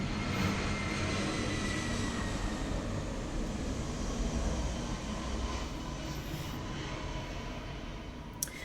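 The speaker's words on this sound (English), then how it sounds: "Here comes a plane." Airplane passing overhead: a broad, steady roar of engine noise that fills the whole stretch, loud and close, fading only slightly toward the end.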